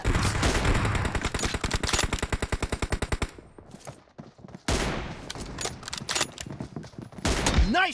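Rapid automatic gunfire in the mobile game PUBG Mobile, a loud fast rattling burst for about three seconds, then a pause and further scattered shots and battle noise.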